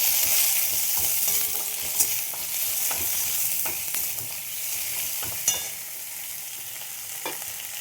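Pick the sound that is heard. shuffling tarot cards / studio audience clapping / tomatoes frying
tomatoes frying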